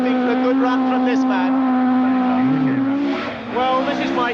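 A rally car at the 1981 Lombard RAC Rally being flung about on a stage, its engine holding a loud sustained note that bends and drops as it slides, with commentary spoken over it.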